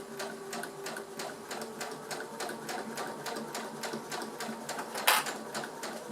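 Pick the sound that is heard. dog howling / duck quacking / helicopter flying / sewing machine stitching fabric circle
sewing machine stitching fabric circle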